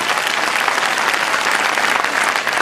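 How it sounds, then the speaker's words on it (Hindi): An audience at a Baba Shyam kirtan in Chandpur, Bijnor, claps in a loud, dense, continuous roll of applause that holds steady from start to finish, with no voices on top. "एक बार गड़गड़ाहट वाली ताली बजा दो"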